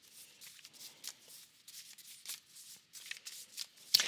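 Tarot cards being shuffled by hand in a series of soft, papery riffles and slides, quiet and close, ending on a sharper slap of the deck, with no talk.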